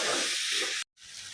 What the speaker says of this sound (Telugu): ఇవి కూడా గుజ్జుగా అయ్యేంత వరకు మనం హై ఫ్లేమ్లోనే కుక్ చేసుకోవాలి